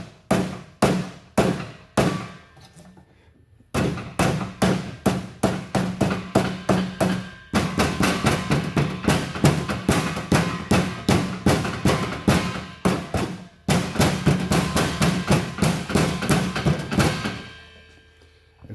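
Repeated hard knocks on an old evaporative smoke test machine to dislodge a stuck pellet, loud close thuds in fast rhythmic bursts with brief pauses between runs.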